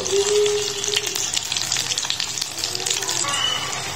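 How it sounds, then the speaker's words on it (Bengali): Fried eggs sizzle in a pan with a continuous crackling hiss, louder at the start, and a person talks over the frying. "এই তো আমার ডিম ভাজা হয়ে গেছে, এখন এগুলো আমি ভুনা করব"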